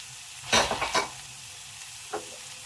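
Bacon drops into a hot pan and bursts into a loud sizzle with a couple of stirring scrapes, then settles to a quiet steady fry with one more small clatter.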